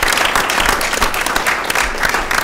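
An audience at a government meeting on affordable housing claps loudly and close by, a short burst of dense applause with a cheer mixed in.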